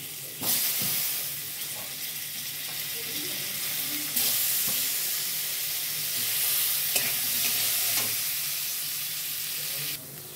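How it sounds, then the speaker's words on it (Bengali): Soaked, cut potatoes fry in oil in a pan, giving a steady close sizzle with stirring scrapes and a few sharper pops throughout. "আলু অনেকটা ভাজা হয়ে গেছে"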